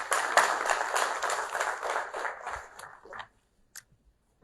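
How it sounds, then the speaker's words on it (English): A small audience at a public health school orientation claps for about three seconds, moderately loud and close, then the clapping quickly dies away into near silence with a few stray sounds. "Round of applause, guys."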